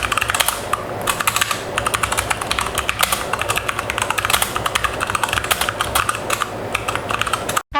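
Rapid, close typing on a Stoga MK22 compact mechanical keyboard, with dense, irregular key clacks running steadily throughout and a brief pause at the very end.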